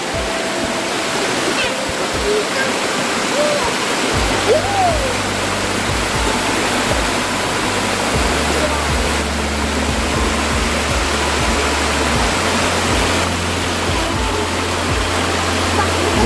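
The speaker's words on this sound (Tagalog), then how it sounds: "Busay Falls mga idol tawag dito sa amin." Busay Falls, a deep waterfall with blue water, roars in a loud, constant rush that fills the whole scene without a break.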